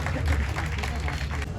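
Crowd applause greets Bihar minister Shravan Kumar at an outdoor statue unveiling and memorial park opening for a theatre artist, steady and moderately loud across the whole moment, with a low hum and voices mixed in.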